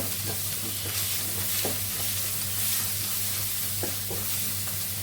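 Food frying in a pan for pasta, a continuous close sizzle with faint scraping of stirring and a low steady hum underneath.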